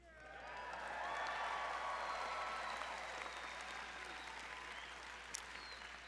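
A large crowd at a university master's commencement ceremony in San Diego cheers and claps steadily, swelling at first and then holding as a broad wash of distant applause.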